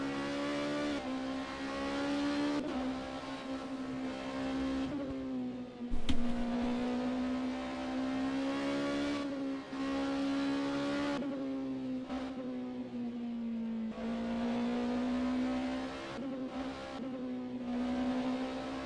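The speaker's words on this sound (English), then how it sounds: "Yeah, the Ferrari sounds awful." Ferrari race car engine in the rFactor 2 racing game at Suzuka, a loud steady high-pitched drone that climbs and dips with gear changes across the whole stretch, with no voices.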